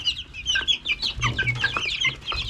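A group of chicks cluck and peep busily while eating, close by, in a dense and continuous overlapping chatter of high chirps over soft low rustling.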